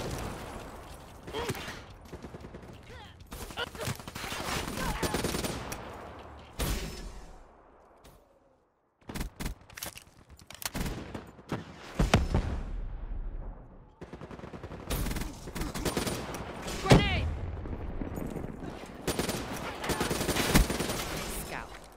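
A hardened sentry gun in a video game fires repeated loud automatic bursts, rapid rattling volleys with brief pauses and one long gap, some mechanical clanks mixed in.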